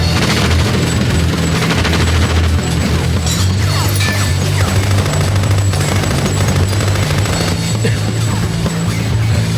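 Dense, continuous gunfire in a Tekken 4 cutscene, loud and sustained rapid shots layered with booming low rumble and crashing impacts throughout, with no pauses.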